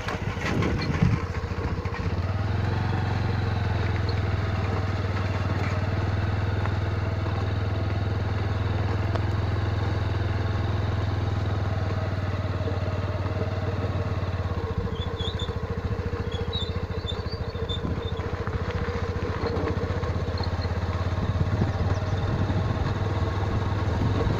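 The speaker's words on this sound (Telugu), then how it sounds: "బైక్ మీద చూడండి, బైక్ మీద వెళ్తున్నాము" A motorcycle carrying two riders runs steadily throughout on a rural road past fields, a low continuous drone with wind rumble and no talking.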